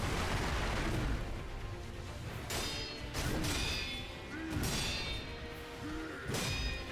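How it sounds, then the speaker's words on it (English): Firecrackers burst in Sekiro: Shadows Die Twice, several sharp crackling bangs a second or so apart over steady game ambience and music. "You can use the firecrackers"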